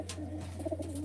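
Racing pigeons being basketed for a race coo softly in a short, close burst over a steady low hum.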